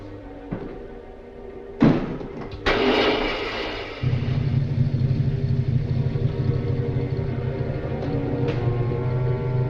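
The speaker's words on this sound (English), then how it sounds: "Start the motor." In a 1946 Sherlock Holmes film, Dressed to Kill, two heavy thuds like slamming car doors come first, then a car motor catches and settles into a loud, steady low idle that runs on to the end.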